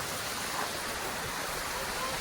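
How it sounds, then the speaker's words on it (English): A small river flowing past a water wheel in a Santiago park, a steady broadband rush of water heard continuously at moderate distance with no clear speech. "It's the water wheel and the river that goes through the park."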